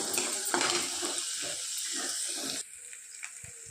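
Soaked green gram fries in a pan, with a soft, crackling sizzle and light stirring scrapes that drop to a quieter simmer partway through.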